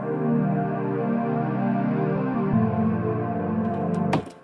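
A sustained ambient supersaw pad from the Sytrus synth with its wave shaper switched off, a dense, smooth chord droning steadily and shifting once midway before cutting off abruptly.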